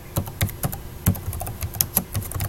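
Quick bursts of keystrokes on a computer keyboard while entering a formula in an Excel spreadsheet, heard as close, uneven clicks with short pauses between them.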